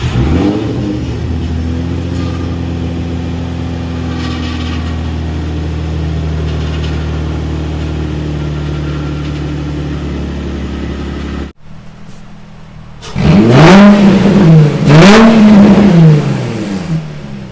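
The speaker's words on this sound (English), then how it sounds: "then we'll crank this thing over and actually listen to it now that hopefully it's not smoking like crazy" Drift car engine cranking over and revving hard, a steady loud drone for most of the clip, then a brief drop and louder rising revs near the end, close by with no talk.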